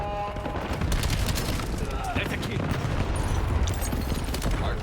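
Rapid bursts of automatic gunfire from a Black Ops 7 multiplayer match, dense and continuous with overlapping shots and explosions, heard close and loud throughout with brief player chatter.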